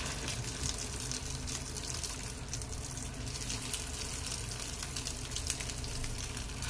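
Chicken kebab pieces fry in hot oil in a pan, giving a steady, close, hissing sizzle that stays even throughout without any speech.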